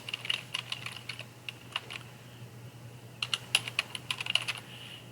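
Quiet keys tapping on a computer keyboard in short bursts with pauses, close and fairly faint over a low steady hum, no voices.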